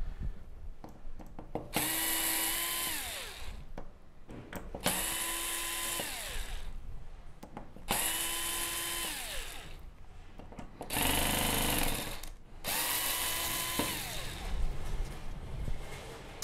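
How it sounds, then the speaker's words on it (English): Screws come out of the main board of a Samsung UN65JS9000F television as a power screwdriver whirs close by in four separate runs, each spinning up and winding down, with short pauses and faint handling noises between them. "we can remove the screws, and that should be the main board away from the chassis"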